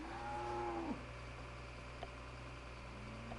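Cows mooing in the Farming Simulator 2015 video game, one long low moo near the start followed by faint, sparse farm sounds over a quiet steady hum, no voices.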